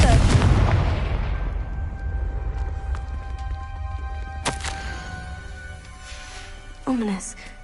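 A heavy explosive boom from a fire spell in a video game opens loudly and decays over several seconds, followed by fainter game sounds and a second smaller blast near the end, with speech partly overlapping.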